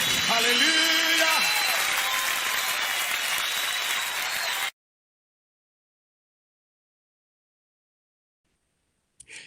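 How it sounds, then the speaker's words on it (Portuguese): Congregation applauding during a Portuguese-language praise and worship service, a dense burst of clapping mixed with music and voices that cuts off abruptly into silence, followed by a brief faint sound at the end. "Oh, aplaudimos a ti, ó Rei."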